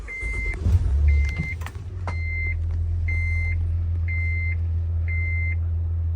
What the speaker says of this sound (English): Let's go ahead and start up the van.